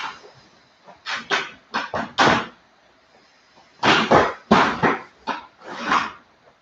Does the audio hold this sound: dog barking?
yes